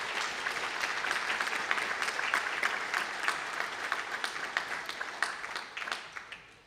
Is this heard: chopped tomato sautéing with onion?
no